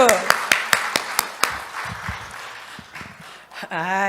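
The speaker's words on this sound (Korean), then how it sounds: "할렐루야, 박수." A church congregation at a San Jose Korean church claps in a short burst of sharp, spaced hand claps over about a second and a half, fading out before a voice resumes.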